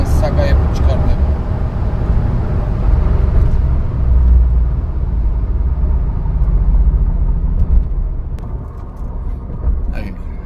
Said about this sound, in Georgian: მაგარი გზნობა ესეთი მანქანის სიარული რა.